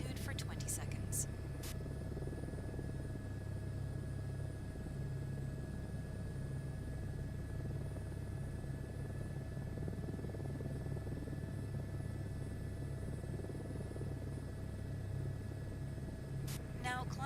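A helicopter holds a steady hover in Microsoft Flight Simulator 2024, giving a continuous low rotor-and-engine drone with faint steady tonal whines throughout and a few brief clicks near the start and end.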